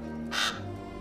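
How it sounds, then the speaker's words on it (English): A single harsh caw from a raven, short and close, rising out of a low steady hum. "the raven would appear to Bran, first at the window of his house"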